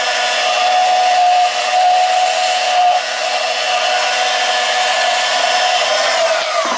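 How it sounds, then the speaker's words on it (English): A portable bandsaw cuts metal while building a light bar for a Polaris RZR Turbo S, giving a loud, steady, close whine with a thin tonal edge that holds throughout. "The portable bandsaw."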